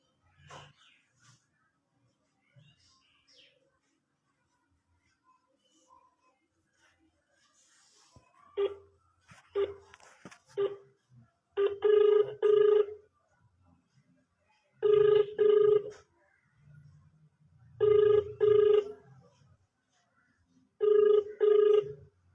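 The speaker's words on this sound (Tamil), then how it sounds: "சரி கட் பண்ணி கூப்பிட்றேன்." A phone call starts with scattered quiet button beeps and clicks, then the ringing tone sounds in regular double bursts roughly every three seconds, clear and close, with no one answering.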